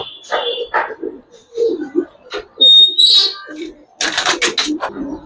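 An Indian red giribaz pigeon gives short coos and chirps in separate bursts, close and fairly loud, with a few other brief bird notes in between.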